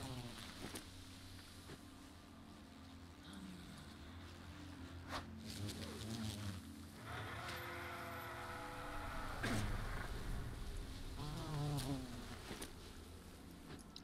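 Bees drone on in a steady low buzz in the World of Warcraft Dragonflight game while collecting them in the Waking Shores zone, quiet under game ambience with occasional chimes and effects layered over the hum.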